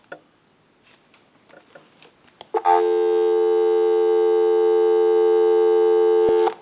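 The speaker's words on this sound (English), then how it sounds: "Go ahead and give you some dial tone." After a few scattered clicks and taps on the line, a telephone dial tone comes in abruptly and holds as a steady, loud continuous tone for several seconds before cutting off.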